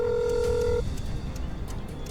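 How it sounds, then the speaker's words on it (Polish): Mobile phone keypad tones dial an emergency number during a car accident rescue video game, a short run of clear, loud DTMF beeps that stop abruptly, leaving quiet background noise. "Telefon, ok. Dzwonimy, dzwonimy. Pyk, pyk, pyk, 112."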